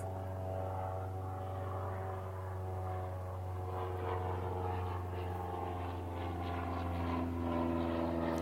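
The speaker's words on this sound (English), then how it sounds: "there's a plane up above. I'll let it pass." Airplane passing overhead, a steady droning hum with a low propeller-like tone, holding fairly level and swelling slightly toward the end, heard alone without talk.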